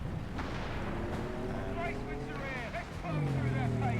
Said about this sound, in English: this Cara taken down by the double AT gun